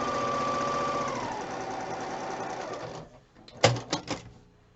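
A sewing machine stitches a Christmas quilt block with a steady, close mechanical whir for about three seconds, then stops with a few sharp clicks.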